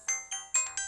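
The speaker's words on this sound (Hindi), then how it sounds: "कॉल आ रहा है" Phone ringtone for an incoming call, a short repeating electronic chirp pattern of four quick bursts, close and fairly quiet, with no talk.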